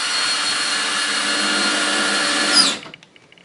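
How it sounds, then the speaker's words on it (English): Power driver running steadily as screws go into a faux brick panel being fastened back in place, a continuous near whir that cuts off abruptly near the end, followed by faint handling sounds. "Let's put a few screws in here just to get it held back in place."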